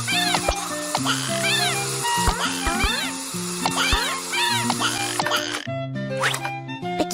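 A stray kitten mewing repeatedly in short, high, rising calls over cartoon background music, fairly close and clear.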